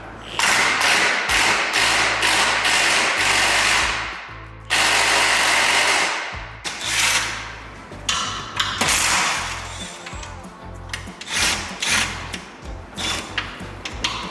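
Power tool working loose a transmission bolt on a wrecked McLaren 720S, loud bursts of rattling impact hammering broken by short pauses, with clunks and thuds of metal as it goes.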